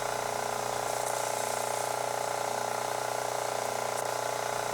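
A steady mechanical hum and rhythmic ticking of a SUPERSEAL pump circulating solvent, fairly quiet and unchanging, with no talking.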